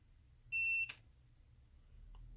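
Vifly Finder drone buzzer letting out a single loud, shrill electronic beep of about a third of a second, followed by a click and low background hum.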